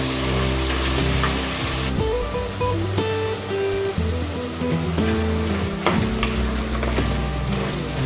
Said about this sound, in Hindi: गैस का फ्लेम हाई रखना है हमको और हाई हीट पे ही हमको इसको अच्छे से भून लेना है 1 मिनट के लिए।